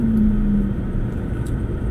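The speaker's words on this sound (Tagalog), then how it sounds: "Ang traffic ng EDSA." Heavy road traffic on EDSA, a low steady rumble of cars and engines throughout, fairly loud and continuous with a brief tonal hum early on, no talk.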